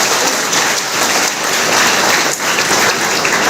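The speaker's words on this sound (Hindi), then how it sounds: "इसलिए पंकज जी के लिए एक बार आप लोग ताली बजा दीजिए।" At a road safety program held at a technology college, the audience claps in a loud, dense, continuous wash of hands for a few seconds, with no talking.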